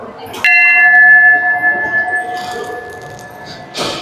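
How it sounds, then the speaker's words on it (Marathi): A metal temple bell at the hilltop Jivdani Mata temple in Virar is struck once. It gives a sharp clang and then a long, steady ringing tone that slowly fades, with a second strike near the end amid faint crowd noise. "शेवटची पायरी वरती बेल घंटा वाजवत आहेत"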